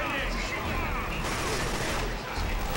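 Sniper rifle fire in Killzone 2 amid a thick battlefield din of rattling gunfire and mechanical clatter, loud and continuous, with a voice talking over it.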